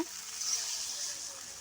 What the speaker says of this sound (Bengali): আমি অল্প একটু জল দেব